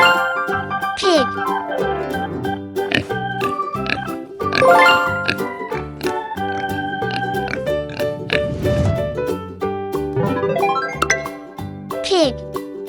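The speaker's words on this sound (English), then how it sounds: "Pig." A pig grunts and oinks in short bursts over a bright children's music jingle with tinkling tones, a voice speaking in between.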